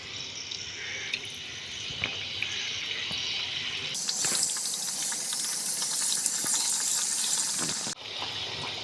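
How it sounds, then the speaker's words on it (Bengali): Khaja pastries deep-fry in moderately hot oil over a lowered flame. A continuous hissing bubble sounds close by and grows brighter and louder partway through, with no voices. "এখন ওগুলো ভাজা হচ্ছে কি সুন্দর ফুলতে শুরু করে দিয়েছে"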